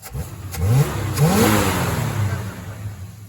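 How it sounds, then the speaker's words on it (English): A 1970 Oldsmobile Cutlass engine revs up twice in quick succession after a tune-up, rising in pitch, then settles into a steady, loud hum close by. "She revs up."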